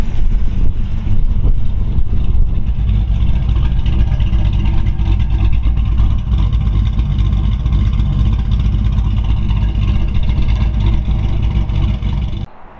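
A 1934 Ford Woody Wagon street rod's Ford V8 idles with a deep, throaty rumble up close, revving steadily for several seconds before cutting off abruptly at the end.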